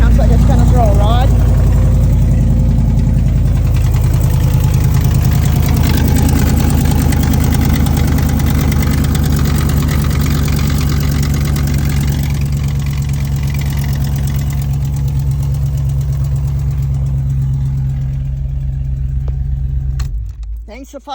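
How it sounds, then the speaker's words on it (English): A car's replacement engine idles loudly and unevenly with a deep, rough rumble and some knocking, sounding close to throwing a rod, running steadily for about twenty seconds before cutting off. "I'm going to let you listen to the engine that Big Rick's put in."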